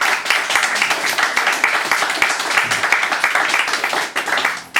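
Audience clapping in a hall, a dense, lively burst of applause throughout that continues without speech.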